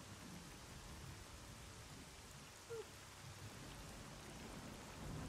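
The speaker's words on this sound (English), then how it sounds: "Thunder and rain, yes." Steady, soft rain patters without a break in the video game Stalker: Call of Pripyat, a low rumble of distant thunder rolling underneath; no one speaks.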